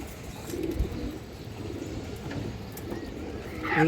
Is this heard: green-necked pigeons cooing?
yes